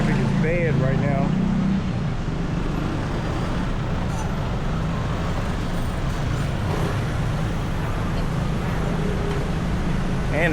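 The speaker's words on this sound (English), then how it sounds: "Traffic is bad right now." Heavy Bangkok street traffic rumbles steadily nearby, with engines idling and vehicles creeping past. A person speaks briefly over the constant low roar near the start.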